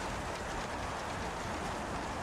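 Rain in the F1 2016 racing video game, an even, unbroken wash of rushing noise that holds steady from start to end with no voices.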